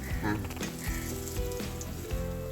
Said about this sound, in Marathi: बटाट्याची कापा बनवतोय बघा मस्तपैकी